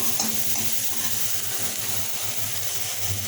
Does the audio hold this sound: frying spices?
yes